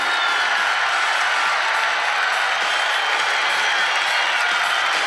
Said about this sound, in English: You hear this crowd behind me. They're getting hyped up.